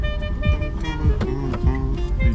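Several car horns honk in overlapping bursts amid busy traffic and loud music at the departure of a 4L Trophy rally, with voices mixed in.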